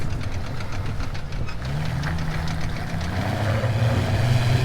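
A Jeep Cherokee XJ fitted with a TORQ auto locker accelerates on pavement, its engine giving a loud, rough, knocking drone that builds steadily in pitch.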